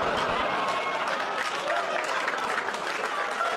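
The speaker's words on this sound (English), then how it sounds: "Applause break on a joke I've never said before on my special" A stand-up comedy audience bursts into steady, dense applause, many hands clapping continuously at an even, loud level throughout.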